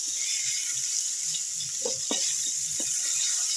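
Pointed gourd (potol) fries in hot oil with a soft, steady sizzle, broken by a few clinks and scrapes of a utensil in the pan; nobody speaks.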